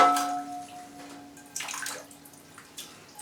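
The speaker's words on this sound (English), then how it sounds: "the roots are around the outside of the pot, so we don't soak the pot, we just trickle down the outside" A watering can trickles water down the outside of potted orchids, giving a soft, uneven splashing and pouring sound close by.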